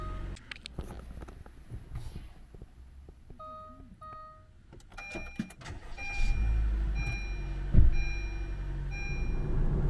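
A Honda Jazz with a 1.3 litre petrol engine, heard from inside while driving to Shin-Kobe: quiet cabin hum and road noise with scattered electronic beeps and clicks early on, growing louder and rumblier in the second half.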